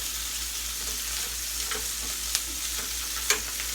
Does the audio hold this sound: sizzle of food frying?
yes